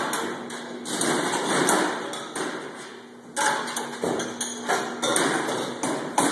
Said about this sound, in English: Bottles fill up on the bottling carousel.